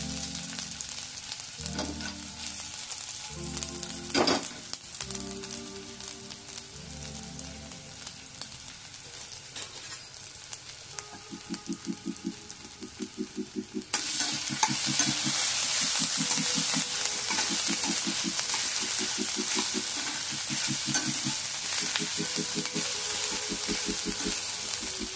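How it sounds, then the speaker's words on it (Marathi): Ginger, garlic and green chili sizzle and fry steadily in hot oil, with occasional stirring scrapes; the frying hiss grows louder and denser partway through and continues throughout without speech. "आलं लसूण मिरची आतमध्ये जरा परतून घ्यायचं म्हणजे शिजलं जाईल वाटण चांगलं"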